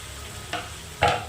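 Chicken sizzles in a pan with onions and cut potatoes, while two quick stirring scrapes rise over a low frying hiss.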